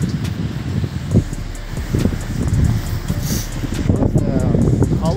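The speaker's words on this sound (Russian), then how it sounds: "Просто холодный ветреный день." Wind buffets the microphone outdoors on a cold, windy October day in an old district of Tolyatti, a steady rumbling roar with gusty swells and a voice talking underneath.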